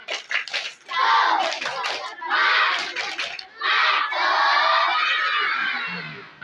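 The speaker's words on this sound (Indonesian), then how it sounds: "Tepuk semangat." Schoolchildren at a Maulid Nabi celebration at an Indonesian elementary school doing the tepuk semangat clapping chant, a loud group of young voices shouting in bursts with rhythmic hand claps.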